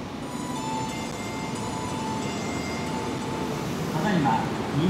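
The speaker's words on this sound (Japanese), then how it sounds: "ただいま2番乗り場に到着の電車が" A Kyoto subway Karasuma Line train bound for Kokusaikaikan rumbles steadily into platform 2, with a faint high whine and a brief squeal of wheels toward the end.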